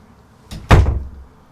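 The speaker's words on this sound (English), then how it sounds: "It's a bit windy in here, so the door keeps slamming." Indoor door slammed shut by wind, a light knock followed by a single loud, close bang with a short low rumble afterward.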